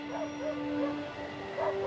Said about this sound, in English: he heard the distant sounds of dogs barking.